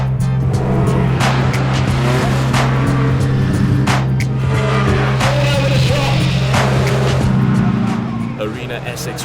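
Banger racing cars roar around the Arena Essex racetrack in the UK, a loud, continuous engine drone with sharp crashes and clatter scattered throughout, easing slightly at the end.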